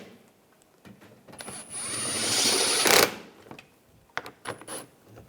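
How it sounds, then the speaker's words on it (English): Power tool driving screws during a radiator fan replacement on a 2013-2016 Dodge Dart, a whirring burst of a few seconds that ends abruptly, followed by short clicks and clatter nearby. "get these screws in up front. Tighten them down."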